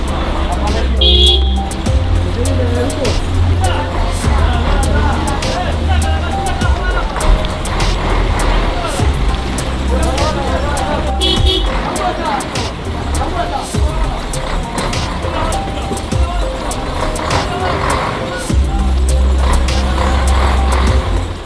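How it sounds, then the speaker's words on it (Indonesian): Cars and trucks inch along a damaged, narrow mountain road, one vehicle reversing to pull aside and let others pass; steady close engine rumble with occasional horn toots, mixed with voices talking throughout. "Sementara kendaraan mencoba untuk lewat, salah satu dari kendaraan tersebut mundur dan mencari tempat untuk menepi agar bisa memberi jalan."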